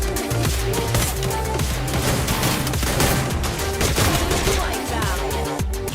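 Rapid gunfire from a Free Fire esports match crackles in dense, overlapping bursts over a busy game soundtrack, with loud bangs and impacts filling the mix throughout.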